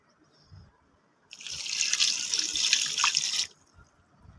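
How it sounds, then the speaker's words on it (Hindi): Water pours in a steady stream into a cooking pot of meat and chopped tomatoes for baingan gosht, lasting about two seconds between quiet moments, with no voices. "तो बस इसके साथ ही हम इसमें इतना पानी ऐड कर देंगे कि हमारा गोश्त अच्छे से गल जाए।"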